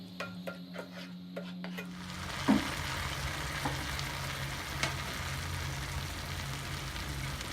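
Paneer butter masala sizzles and fries in a pan while a spoon stirs it, with a few scraping knocks against the metal over a steady close crackle.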